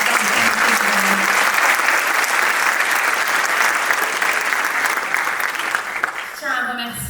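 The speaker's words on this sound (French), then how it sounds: "applaudissez pour nos speakers" A large audience at a Cameroonian diaspora event in Paris claps loudly and continuously for the speakers, a dense unbroken burst of applause that fades in the final second.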